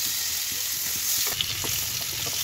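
Pieces of papaya and potato frying in hot oil for a lamb dish, a brief close sizzle with soft stirring clicks, no talking.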